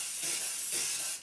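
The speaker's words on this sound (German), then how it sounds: "Ich hab ja Öl hier zum Sprühen." Cooking oil hisses from a spray bottle in a home kitchen: a few close, loud, breathy pumps follow one another over about a second, each a sharp airy spray.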